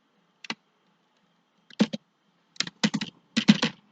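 Keys on a computer keyboard are tapped in a command prompt, with a single press, then short bursts of several quick close clicks separated by pauses, and no speech.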